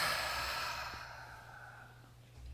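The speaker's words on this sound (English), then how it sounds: "We're going to take a nice deep breath in, big deep breath in and out" A single long, deep exhale released slowly through the nose and mouth, soft and close, fading gradually into quiet with a faint intake at the end.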